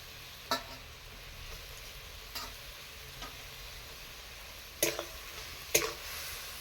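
Spice paste with chopped coriander for prawn kofta curry stirred in a pan, a quiet steady sizzle broken by a few sharp scrapes and taps of the spoon, with no talking.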